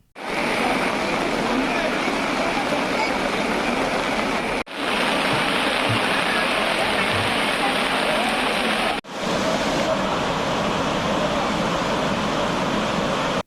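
The Bavali river, swollen by heavy rain, rushes in a strong current with a loud, steady roar of churning water, close and continuous with two brief breaks.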